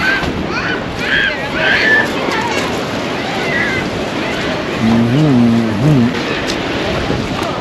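Waves wash steadily along a crowded, high-water beach at Gimli during a festival, with constant surf and wind rumble, a few distant voices and a brief tonal engine-like hum near the end.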